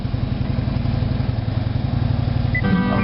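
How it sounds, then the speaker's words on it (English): A car engine idles steadily from inside the closed cabin, a low rumbling drone throughout, with a brief higher tone entering near the end. "engine's running on the car"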